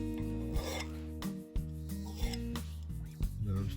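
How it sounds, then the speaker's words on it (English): A hand file rasps against the steel of a wood auger bit in short, firm strokes, close and fairly loud, with a resonant ringing tone between the strokes. "And you want a sharp file."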